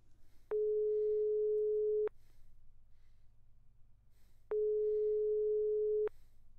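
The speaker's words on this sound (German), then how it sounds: "Nico ging nicht ans Telefon." An unanswered telephone ring in the Broken Sword 5 adventure game: two long, steady electronic ring tones, each about one and a half seconds, separated by a pause, clear and alone over a faint low hum.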